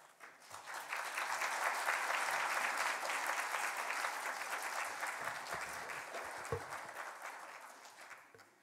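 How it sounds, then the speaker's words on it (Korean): A church congregation at a Sunday worship service claps to welcome a retired pastor to the front, a sustained, even round of applause that swells quickly, holds for several seconds and then tapers away, somewhat distant in the hall. "우리 목사님 나오실 때에 다시 한번 환영하는 박수로 모시도록 하겠습니다."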